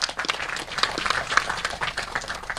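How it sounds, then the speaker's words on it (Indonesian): Brief round of clapping from an assembled audience at an outdoor rice harvest ceremony with the Indonesian President, a dense, steady patter of hands at moderate distance. "Tepuk tangan untuk beliau."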